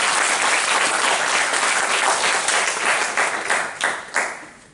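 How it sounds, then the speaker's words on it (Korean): A church congregation at a mission worship service applauds loudly together, a dense continuous wash of clapping that swells and holds, with a few sharper bursts as it trails off near the end. "고맙다고 생각하시면 크게 박수로"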